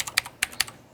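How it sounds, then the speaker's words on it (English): Computer keyboard keys tapped in a few quick, close keystrokes with short gaps between them, clicky and alone with no voices. "Yeah, the keyboard is quite tappy."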